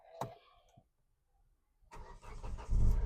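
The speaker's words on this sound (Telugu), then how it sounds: "ఒక్కటే సెల్ఫ్ స్టార్ట్ అయిపోయింది, ఎలాంటి స్టార్టింగ్ ట్రబుల్ అయితే లేదు." A 2017 Hyundai i20 Asta diesel fires up with a push-button start: a short click and quiet pause, then the engine cranks and catches into a loud, rough diesel rumble close by.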